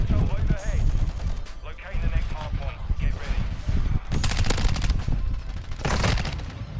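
Gunfire in Modern Warfare with a gold Honey Badger rifle: repeated bursts of rapid shots crackle loudly across the clip, strongest near the middle and end, mixed with a player's excited talk.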